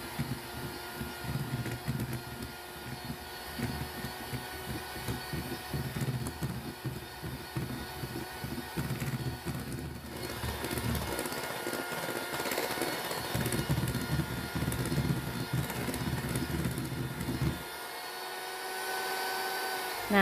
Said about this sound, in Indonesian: kalau margarin sudah mengembang dan lembut, ini kita matikan mixer